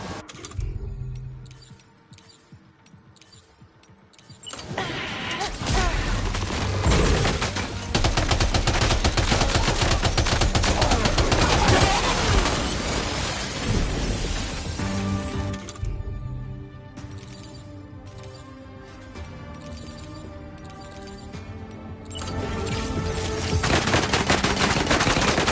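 Loud, sustained gunfire erupts after a quieter opening, rattling in dense machine-gun-like bursts, easing briefly before building again to a heavy barrage.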